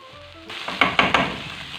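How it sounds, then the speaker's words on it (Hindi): Green beans fry with minced meat keema in a pan, a steady close sizzle with a few sharp stirring scrapes and pops partway through. "पाँच मिनट के लिए फलियों को कीमे के साथ फ्राई करें।"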